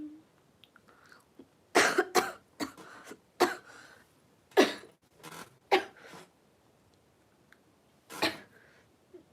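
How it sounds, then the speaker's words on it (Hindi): A person coughs in a series of sharp, separate bursts with short pauses between them, close and fairly loud in a quiet room. "कब से मेरे को खांसी लग रही है"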